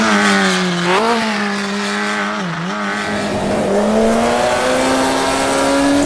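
A lightweight Formula Junior race car of roughly 100 horsepower in Automobilista 2 whines steadily and close, its engine pitch dipping twice with gear changes and then climbing smoothly as it accelerates.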